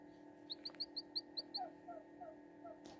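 Three-day-old Serama chick, a tiny bantam chicken, giving a quick series of seven high, thin chirps followed by softer lower peeps, faint and close over a steady low hum.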